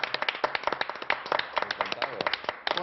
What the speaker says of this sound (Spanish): les demos un aplauso a nuestros conspiradores en casa